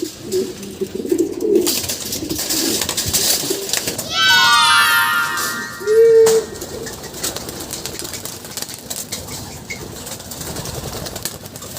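Racing pigeons cooing in a loft, with soft murmuring coos under rustling and wing flaps, a brief burst of chirping calls in the middle, and a person speaking quietly nearby.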